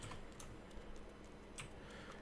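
Computer keyboard keys clicked rapidly while playing H1Z1 Battle Royale, a quick run of light, close tapping with no voices.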